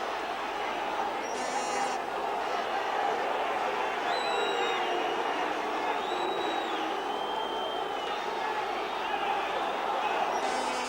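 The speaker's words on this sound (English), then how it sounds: "The crowd howling in anger." A large football stadium crowd at an Everton versus Telford match in 1985 roars and howls angrily after a late foul challenge, a dense, loud, sustained wall of voices that runs unbroken throughout.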